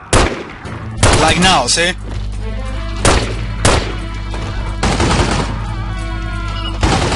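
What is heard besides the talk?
gunfire in The Godfather PC video game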